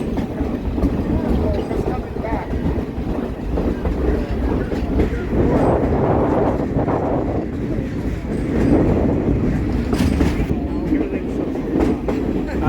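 A Verde Canyon Railroad train in Clarkdale, Arizona rumbles steadily as it enters a tunnel, with a continuous loud roar and rattle of the cars and people talking over it.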